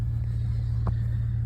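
A 5.3 liter V8 truck engine idles just after starting, a steady low rumble that stays constant and fairly close throughout.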